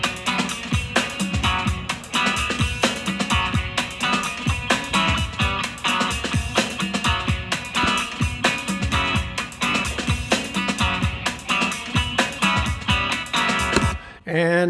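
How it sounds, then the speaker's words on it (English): Lead melody hook of a self-written song playing over a drum loop, a dense, loud mix of repeating synth lead lines, punchy beats and bass that runs continuously for about fourteen seconds before cutting off abruptly. "And then later I decided on a lead, kind of the hook of the song."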